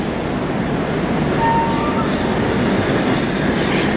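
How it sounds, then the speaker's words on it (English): Vintage Tait electric train passing close by in a loud, steady rumble of wheels on rails, with faint squeals rising above the roar. "The Tait is now coming through."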